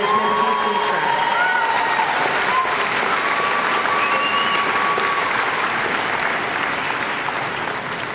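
Sustained applause from a large crowd at a university diploma ceremony for graduates, dense and steady clapping throughout, with a few faint tones over it, fading slightly at the end.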